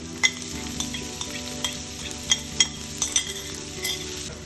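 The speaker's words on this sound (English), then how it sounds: "I'll cook the onion until they become translucent" Chopped onion and ginger sauté in a pan with a steady sizzle, while a utensil stirs and scrapes in several sharp clinks, close and clear with no talking.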